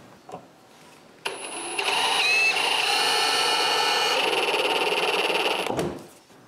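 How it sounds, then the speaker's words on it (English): Power drill driving screws into cedar wood for a patio table, a steady loud whir that starts abruptly, runs continuously for several seconds with rising pitch shifts, then stops. "I pre-drill and screw 4 screws."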